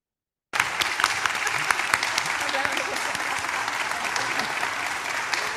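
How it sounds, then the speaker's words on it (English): Church congregation applauding during a Sunday worship service, a dense, steady clapping that starts abruptly and keeps up at full strength for several seconds without any talk over it. "we'd like to give you a hand of applause."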